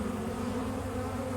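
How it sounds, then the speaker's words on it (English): Small honey bees buzz at a beehive trap on an estate in the Western Ghats near Kanyakumari, a steady close-up droning hum with no break. "Small honey bee, not wild."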